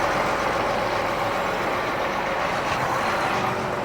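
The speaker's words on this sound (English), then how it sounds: "we're gonna be running this on an 8360R John Deere tractor number 5" John Deere 8360R tractor engine running, a loud, steady, broadband diesel drone with no change in pitch, close by and without talk.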